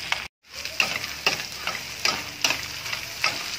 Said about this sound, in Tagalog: Kung naigisa na natin yung ating mais